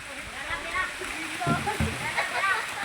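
Rushing water from a waterfall pours steadily through a rural province setting in Eastern Samar, a broad continuous wash with splashing, while people talk over it.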